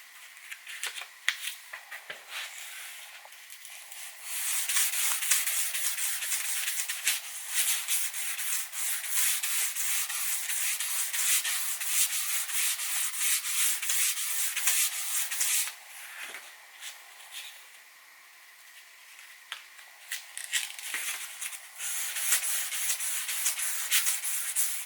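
Stainless steel is sanded by hand with 800 grit sandpaper, giving a long, steady, raspy rubbing that pauses briefly twice and then resumes, close and fairly loud.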